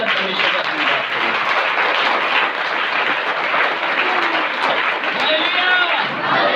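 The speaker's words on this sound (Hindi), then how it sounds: "जोरदार ताली बजाकर परमेश्वर का धन्यवाद करें।" Congregation at a Hindi-language Christian prayer meeting clapping loudly in thanks to God, a dense, sustained roar of many hands over the full stretch, with voices mixed into the din.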